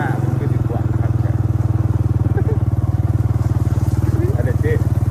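A motorcycle rides along rural rice-planting fields in Savannakhet, its engine a loud, close, steady throbbing drone that never lets up, with voices talking over it.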